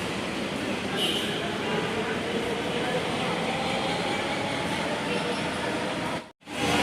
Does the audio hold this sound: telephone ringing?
no